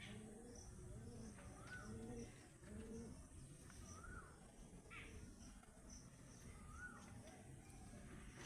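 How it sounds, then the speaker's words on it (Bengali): Female pigeons of mixed breeds, including Shahjahanpuri birds, coo softly and repeatedly inside a loft, their low murmurs overlapping against a steady background hiss with faint chirps. "এখানে সম্পূর্ণটাই ফিমেল পায়রা রয়েছে।"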